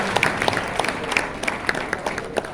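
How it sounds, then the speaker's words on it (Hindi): Audience applause at an inaugural ceremony, a steady patter of many hands in a hall with a few sharper, closer claps standing out above the crowd. "जोरदार तालियां एक बार"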